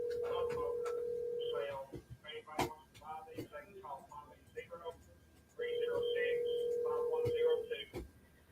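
A telephone rings at a radio call-in show studio, two long steady ring tones at the start and again later, with a host talking in between.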